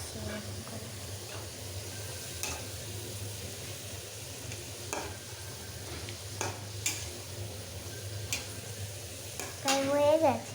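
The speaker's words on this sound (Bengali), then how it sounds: "এটা এখন ভাজছি।" Potato strips for French fries fry in a pan with a low, steady sizzle and hiss, broken by light utensil taps and a brief clatter near the end, while a person talks over it.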